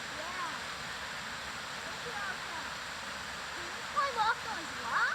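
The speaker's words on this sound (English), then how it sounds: "That's a pretty cool waterfall" A waterfall in Franklin Gulf Park on a fall hike pours steadily, a constant broadband rush heard throughout, with brief voices and chatter rising near the end.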